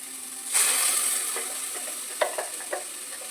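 Spices hit a pan of tomatoes for a village-style egg curry with a sudden loud burst of sizzling, which settles into a softer hiss broken by a few sharp clicks of a spoon stirring against the pan.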